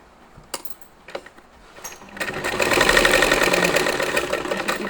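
A sewing machine stitches down a cloth knot tassel, with a few sharp clicks first, then a steady rapid mechanical whir that starts after two seconds and runs on close and fairly loud.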